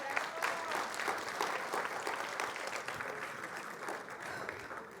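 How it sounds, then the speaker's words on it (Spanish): Steady, dense applause from an audience at a church teaching gathering, many hands clapping together with a few voices and cheers mixed in, sustained at an even level through the whole span. "Denle un aplauso a Belindita"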